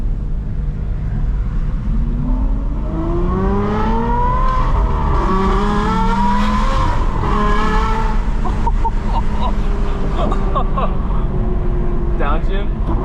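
An Aston Martin V12 Vantage S with an F1 exhaust revs hard, rising and falling in repeated sweeping pitch climbs. The loud, close engine note plays over and between people talking.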